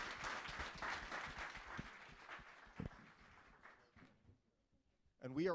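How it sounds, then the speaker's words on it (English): Audience at a World Bank Group blockchain summit applauding the panelists, a dense burst of clapping that thins out and fades to near quiet before a voice returns at the end. "Please join me in giving our panelists a round of applause."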